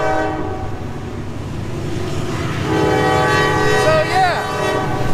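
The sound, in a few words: train passing with horn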